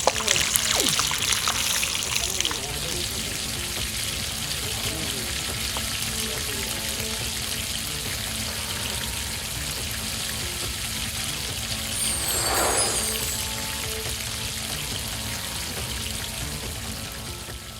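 Rice paper rolls frying in hot oil during a cooking competition, a continuous loud sizzle and crackle that holds steady throughout, with voices in the background.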